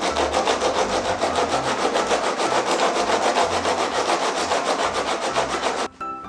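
Sanding the surface of a repaired car bumper, with a steady, loud abrasive rasp that runs without a break for about six seconds and then stops abruptly.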